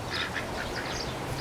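Young ducklings, about two weeks old, quacking and peeping in quick overlapping calls, faint and close with a soft noisy background.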